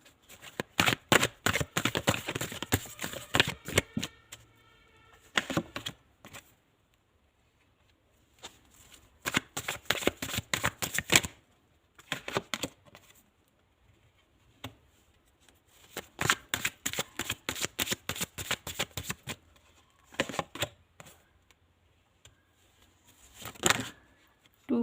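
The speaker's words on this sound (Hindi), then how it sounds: "2 कार्ड और लेते हैं हम आपके लिए।" Tarot cards shuffled by hand in several separate bursts of quick riffling and flicking, close and crisp, with quiet pauses between bursts and no talk.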